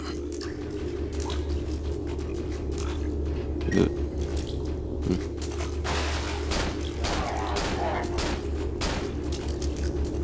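Gunfire in the Cry of Fear horror video game: a few sharp shots crack out over a steady low in-game drone, with one louder report standing out near the middle.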